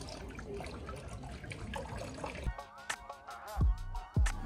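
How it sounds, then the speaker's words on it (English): Water runs from an outdoor drinking and washing fountain in Nara, Japan, in a steady splashing stream. Voices come in partway through, with a few short knocks near the end. "Outside there's water for washing and drinking."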